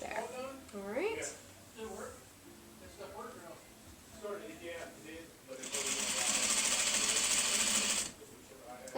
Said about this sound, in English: let's go ahead and sew over this seam